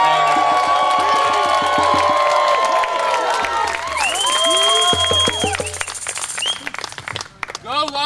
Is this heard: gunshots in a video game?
no